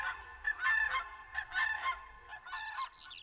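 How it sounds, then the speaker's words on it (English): Returning cranes call over open fields with a run of clear, trumpeting honks in quick bursts, moderately distant and standing alone against quiet surroundings. "The silence of the fields is interrupted by the sound of returning cranes."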